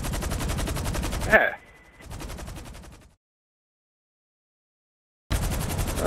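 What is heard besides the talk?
enemies shooting guns in video game GTA Online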